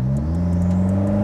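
Steady mid-range engine drone with rising whine from a turbocharged Toyota Kijang Innova Reborn under acceleration, heard from inside the cabin, continuous and fairly loud.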